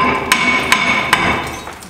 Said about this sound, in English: I have to loosen it up with a hammer.